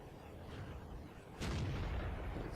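A tank cannon booms in World of Tanks, a single heavy blast partway through over a low rumbling engine and battlefield ambience, fairly faint and distant.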